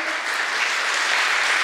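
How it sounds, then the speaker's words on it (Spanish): An audience at a diplomatic human-rights talk gives the ambassador of Costa Rica a loud, sustained burst of applause that stays even from start to finish. "Un fuerte aplauso entonces"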